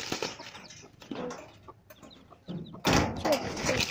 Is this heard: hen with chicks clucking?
yes